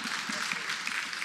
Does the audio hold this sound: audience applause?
yes